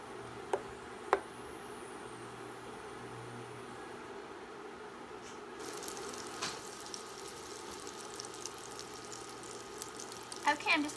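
Butter melts and sizzles faintly in a Copper Chef pan, a soft continuous frying hiss with a few small clicks and pops, quiet and close in a kitchen.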